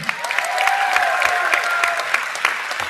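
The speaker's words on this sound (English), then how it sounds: "Clap it up for Brendan anyway." Audience applause at a school keynote address, a full, sustained burst of many hands clapping from a crowd, loud and steady, with a faint tonal hum running underneath.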